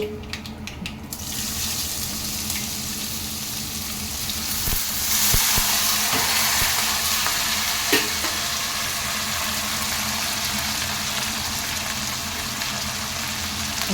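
Chopped beans and curry leaves fry in a pan with a continuous close sizzle and hiss, with occasional soft knocks of stirring and a sharper crackle partway through.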